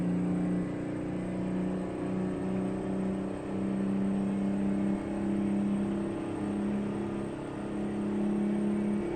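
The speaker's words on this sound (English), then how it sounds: "It's only revving past about 1500 RPM." A truck engine in a video game, a custom Peterbilt in American Truck Simulator, drones low and steady at a fairly constant pitch, revving only to about 1500 RPM, with a slight dip partway through; no voices.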